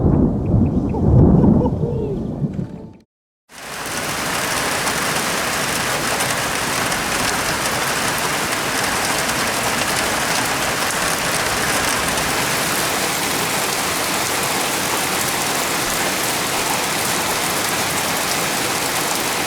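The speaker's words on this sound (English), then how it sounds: "Thunder and Lightning's coming." Heavy rain from a thunderstorm near Toverland: a loud, dense, steady roar of downpour lasting many seconds after a short quiet gap, with a low rumble and a voice heard briefly at the start.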